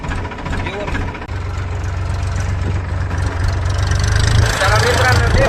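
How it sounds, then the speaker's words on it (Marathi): A farm tractor hitched to a wheat seed drill idles with a steady low, knocking engine throb, close and continuous, while someone talks over it. "चला मित्रांनो, आता आपण ट्रॅक्टर घेऊ गहू पेरायला."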